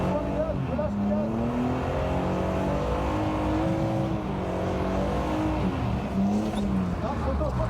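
Car engine during a driving lesson, rising and easing repeatedly as the throttle is applied and released, steady and close inside the cabin, with an instructor talking over it.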